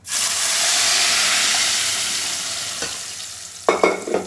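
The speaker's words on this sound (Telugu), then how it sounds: "ఇప్పుడు మెదుపుకున్న పప్పు ఏదైతే ఉందో అది మనం ఇలా తాలింపులు వేసేద్దాం" Mashed dal poured into a sizzling tempering in a pan for a tomato dal, giving a loud, steady hiss that fades slowly, then short bursts of stirring and sputtering near the end, with no talking.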